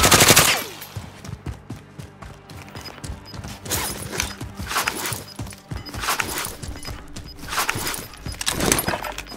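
Gunfire in Call of Duty Modern Warfare: a sharp opening shot, then bursts of automatic fire and single reports in uneven clusters, fairly close, with footsteps and battlefield clatter between them.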